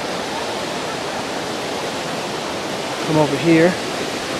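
Steady broadband rush of a waterfall and stream at Glendale Shoals Greenway & Preserve, a constant wash of flowing water throughout, with someone speaking briefly near the end over it.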